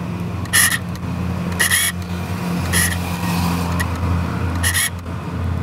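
Street traffic outside a room, with cars passing close and loud and engines rumbling; sharp bursts come and go in a repeating rhythm over a steady low hum.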